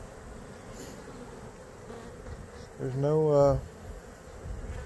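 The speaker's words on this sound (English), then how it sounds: "you'll have about 200, 300 bees hit the frame if it's a big swarm, and then the queen will show up" Honey bees from a large swarm buzz steadily at low level, with a louder, rising drone as bees pass close for about a second midway, and a voice speaks briefly.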